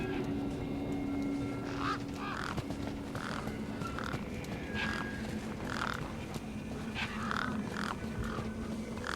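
Harsh bird squawks and honking calls from the video game Beyond a Steel Sky repeat every second or so over a busy background din, loud and close, with no talking.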